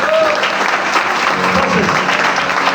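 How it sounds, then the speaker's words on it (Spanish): A church congregation applauds during a Spanish-language sermon, a steady, loud wash of clapping from many hands that fills the whole moment with little variation. "Denle el mejor de los aplausos a Dios."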